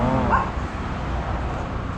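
An old dog barks nearby, a short whimpering yelp over a noisy outdoor background with no clear speech.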